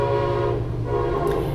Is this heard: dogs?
no